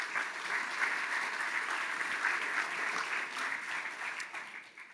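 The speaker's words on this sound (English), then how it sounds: "round of applause for TWM," An audience claps for an event sponsor at a talk, a steady, dense wash of applause holding level for about five seconds before easing slightly at the end.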